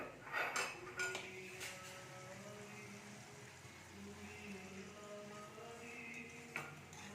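Bowls and plates being handled in a home kitchen, with a few sharp clinks of crockery near the start and another knock toward the end over a quiet room.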